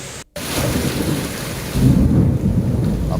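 Steady heavy rain pours throughout, and a deep rumble of thunder swells partway through, loud and close, with no voices.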